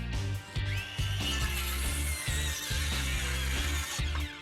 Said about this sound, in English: Cut the straight part with the skill saw and finish it off with the jigsaw